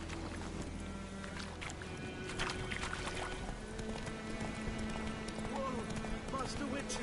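Roach the horse gallops in The Witcher 3: Wild Hunt, a rhythmic run of hoofbeats mixed with game ambience and steady low background sound, while a voice talks over it.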